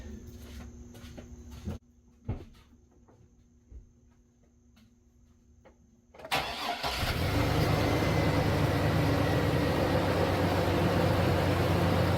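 A car engine is started after an oil change: a few faint clicks and taps in near silence, then the engine cranks and catches into a loud, steady idle that carries on to the end.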